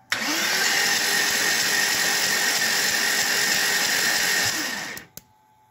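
A BMW V8 engine in a T-bucket hot rod cranking on the starter, a steady loud whirring drone for about five seconds that stops abruptly, followed by a single click.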